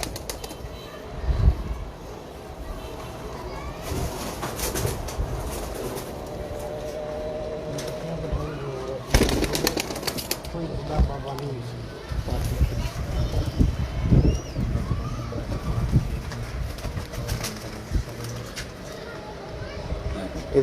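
Pigeons flap their wings in bursts and coo faintly in a loft, with people talking over much of the scene and occasional bumps and clatter.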